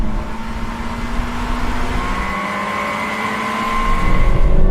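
A JDM sports car accelerates hard in second gear, its engine note climbing steadily with rising harmonic whine and getting louder toward the end, loud and close with continuous road and wind roar.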